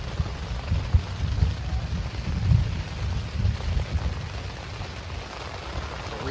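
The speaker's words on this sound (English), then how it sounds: "it started pouring and thundering and lightning" Heavy rain pours down steadily at a campsite in the White Mountains of New Hampshire, a dense, even roar with faint low rumbles of thunder underneath and no voices.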